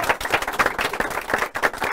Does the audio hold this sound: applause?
yes